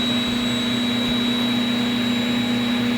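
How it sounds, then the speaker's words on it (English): 3D printer repositioning its nozzle and raising the build plate during a mid-print filament change, a steady close mechanical whir with a constant tonal hum and a faint thump near the middle. "the nozzle is going to move to where it was, and the plate is going to come up to it"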